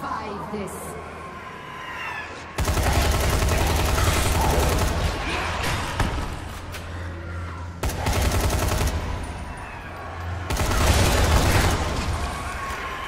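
Heavy gunfire in Dying Light: The Following: long, dense, loud bursts of rapid shots come in three sustained volleys, with brief quieter gaps between them.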